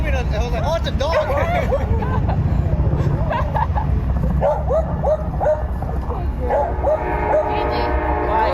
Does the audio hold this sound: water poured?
no